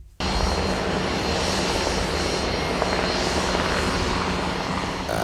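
Fighter jet engine noise during a Swedish military pilot's first solo training flight, a loud, steady broadband roar that starts abruptly and holds constant from start to finish.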